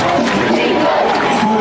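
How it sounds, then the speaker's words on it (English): A crowd of football fans in the stands at a varsity game cheers loudly, hyped up by the sideline, making a continuous dense roar of shouting voices. "The sideline trying to get the crowd hyped, and they are delivering"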